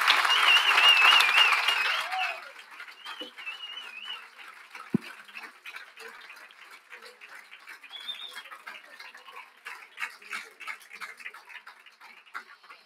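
A conference audience at an international feminist congress applauds, a loud burst of crowd clapping that cuts off after about two seconds, then gives way to quieter room noise, scattered sounds and faint voices.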